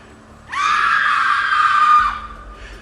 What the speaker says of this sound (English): Now you're gonna hear a couple screams.